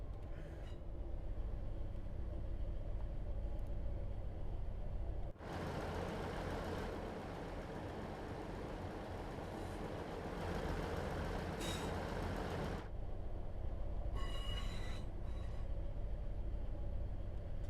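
A Class 158 Sprinter diesel train runs on the Midland Mainline route in Train Sim World 3: a steady low engine rumble that swells into a louder roaring stretch mid-way, then settles back with faint tonal whines.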